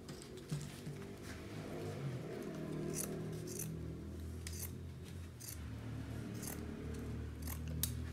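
Scissors snipping through doubled paper while cutting out a craft octopus, a steady run of short crisp snips over a low background hum, close and fairly quiet, with no talking.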